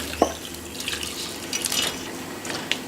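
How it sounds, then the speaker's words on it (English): Homemade chicken stock strained into a second saucepan for a Thai-inspired field mushroom soup: soft trickling and dripping liquid close by, with a few light clinks of metal pans, no voices. "So the first thing I'm going to do is strain my stock into this other saucepan."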